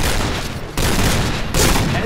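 Rapid sniper rifle gunfire in a first-person shooter game, with loud, dense blasts filling the clip and a sharp new report near the end, close and overwhelming.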